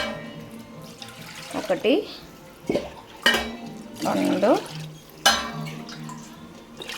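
Glasses of water are poured into a cooking pot for vegetable biryani, several short splashing pours separated by pauses, with a person talking and counting in between.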